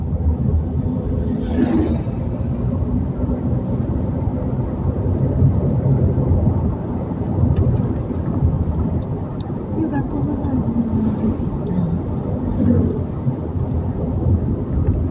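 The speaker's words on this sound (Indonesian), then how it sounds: "gerimis-gerimis terus." Steady rain and drizzle hiss under a low rumble of thunder on a drive along the Blang Bintang toll road toward Jantho, with broad noise throughout and a few faint distant sounds.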